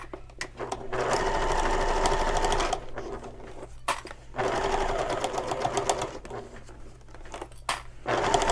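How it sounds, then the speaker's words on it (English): Sewing machine stitching over a seam of a shoulder bag, a steady close whirring hum in two long runs with a brief stop between and short pauses at the ends. "I like to sew over this seam again"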